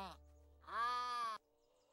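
A sheep in The Sims 4 gives one short bleat, then a longer, louder wavering bleat, close and clear with nothing else around it.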